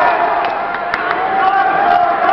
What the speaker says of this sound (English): the crowd shows their appreciation for Tommy Dreamer